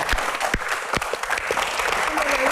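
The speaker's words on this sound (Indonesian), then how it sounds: "tepuk tangan untuk dokter Boy" Studio audience at a Q&A show with Dr. Boyke claps for the doctor, a dense, fairly loud burst of applause with distinct individual claps throughout and voices faintly mixed in.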